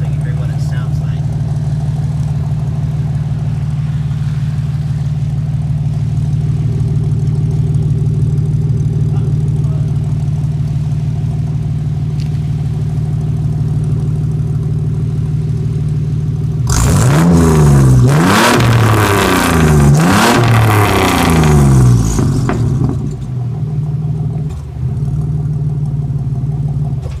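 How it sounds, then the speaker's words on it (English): A car engine with a cherry bomb glass pack exhaust idles with a steady low drone, then is revved hard for several seconds, loud and close, before settling back to idle. "I'm gonna give this thing gas so you hear what it sounds like"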